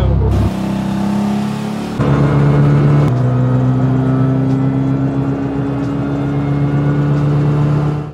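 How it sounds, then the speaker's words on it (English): A high-efficiency Eco Marathon car drives around the competition track, its motor whirring loud and close in a steady drone that steps up in pitch partway through, with no voices. "We're gonna go drive around the track, which is the same one the students will be going on to compete in the Eco Marathon."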